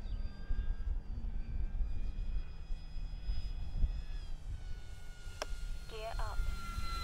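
An E-flite Corsair RC model airplane flies after taking off into the wind, its motor a faint steady drone under wind noise, with brief high whining tones near the end.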